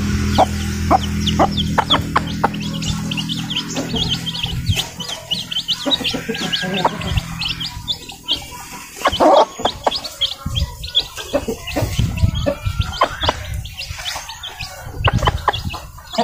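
Hens clucking and chicks peeping together, busy and continuous, close to the listener, with a low hum underneath early on.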